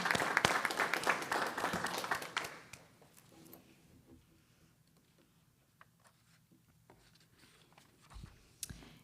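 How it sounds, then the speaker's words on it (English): An audience at a school board meeting applauds for Maria and the paraprofessionals of Cohort 1, a burst of clapping for about two seconds that fades into quiet room noise with a few scattered later sounds. "Let's give a round of applause to Maria and the paraprofessionals that are part of Cohort 1."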